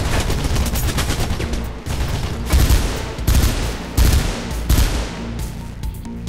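Rapid bursts of gunfire from a firefight in the video game Mirror's Edge, loud and nearly continuous, with shots stacking into a dense fusillade and a brief dip before the firing resumes.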